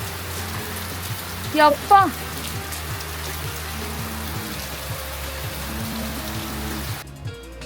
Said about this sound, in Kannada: ಇವತ್ತು ನೋಡಿ ಬಂದ ತಕ್ಷಣ ಮಳೆ ಸ್ಟಾರ್ಟ್ ಆಗಿದೆ